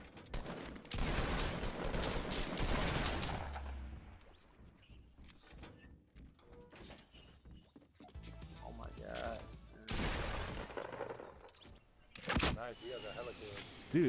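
Video game gunfire rings out in loud bursts of shots and crashes, scattered across the stretch and mixed with players talking over one another.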